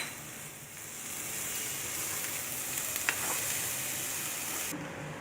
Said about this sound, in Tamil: அடுத்து தேங்காய் பூ தேவையான அளவு போட்டு கிளறி இறக்கிக்கோங்க.